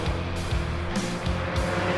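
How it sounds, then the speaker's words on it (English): Spec Miata race car on a track, heard from inside, gives a loud, steady engine roar with rhythmic pulsing as it works through gears, no voices over it. "Like, the car sounds good. It's holding together nicely."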